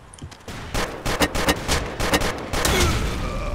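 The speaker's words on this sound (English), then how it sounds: "That's some grenades." Blasts and gunfire in the voxel shooter Ace of Spades crack in a rapid series of sharp close bursts, followed by a louder sustained rumble toward the end.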